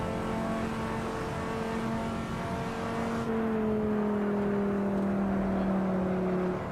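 A V10 race car engine in the Assetto Corsa racing game pulls hard through third gear, its steady, loud droning howl gliding slowly downward in pitch, close and continuous with no talking.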